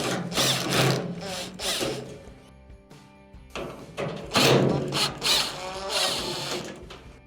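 A power screwdriver backs Phillips screws out of the front panel of a clothes dryer, several loud whirring bursts of a few seconds each separated by brief pauses, close to the microphone.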